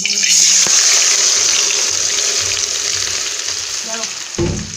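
Hot oil and ghee sizzle loudly for mutton biryani, a bright, steady frying hiss that starts strong and slowly eases, with a few clinks and a soft thump near the end.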